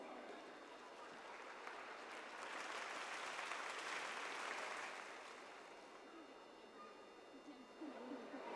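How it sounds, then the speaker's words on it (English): Audience applause at a school annual day event: broad, steady clapping from a crowd that swells in the middle and then gradually fades. "warm applause"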